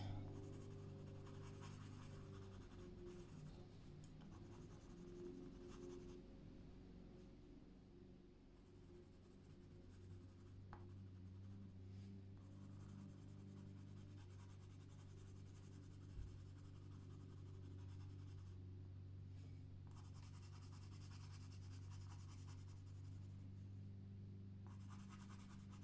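Colored pencil burnishing and blending on paper gives soft, steady scratchy strokes that run continuously and close, at a faint level.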